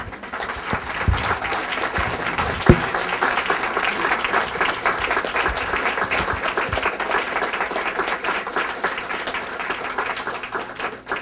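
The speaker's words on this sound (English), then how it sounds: "You may now applaud" An audience at a 2014 Virginia candidate meet-and-greet applauds the candidates, a continuous, fairly even round of clapping heard from within the room, with occasional sharper claps standing out.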